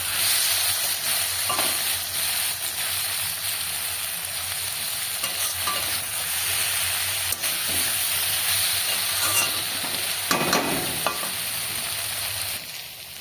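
Eggplant slices fry in a pan with neem leaves scattered on top, giving a steady, close sizzling hiss of hot oil throughout. Occasional soft clinks and bursts of crackle come from stirring.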